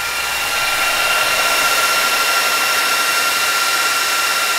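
Harley-Davidson Road Glide performance bagger engine running with a loud, steady high-pitched roar, held constant close to the bike with no talking.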